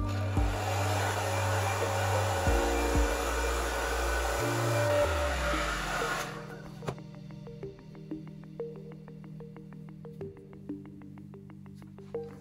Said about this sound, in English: Then I'm gonna wind it through my blow dryer. I'm gonna turn it on low.